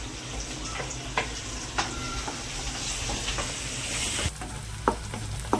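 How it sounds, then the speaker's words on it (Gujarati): Chillies and garlic going into hot oil for Indian-style pasta, making a loud, continuous crackling sizzle with a few sharp spatters and stirring knocks and no speech. "ગરમ તેલ હોય ને આ મરચાં જાય છે જાય છે લસણ"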